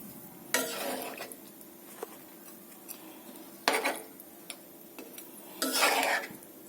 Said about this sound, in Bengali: এভাবে হচ্ছে আস্তে আস্তে নাড়বেন, খানিকক্ষণ কষিয়ে নেবেন।